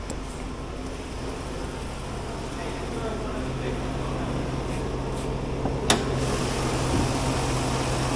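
A 2003 Chevrolet Tahoe with a 5.3L V8 idling smoothly, a steady low hum and drone close by with an even tone, and a brief click partway through.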